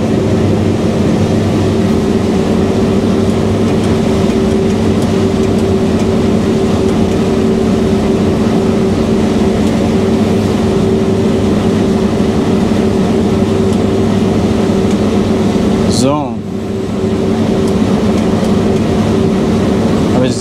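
A farm vehicle's engine drones steadily and loudly as it drives slowly through a pea field, a continuous tonal hum with no pauses and a brief dip near the end.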